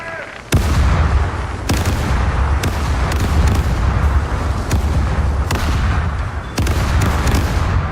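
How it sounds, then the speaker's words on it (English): Ship cannons on the right side of a sailing vessel in the Caribbean Legend video game fire in a series of about six loud booming blasts, spaced a second or so apart, over a steady rumble of wind and sea. "Turnabout. Right side, ready to fire!"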